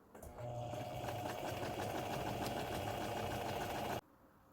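A sewing machine stitches a coat seam in one steady, fairly quiet run of about four seconds, with a fast even hum that stops abruptly.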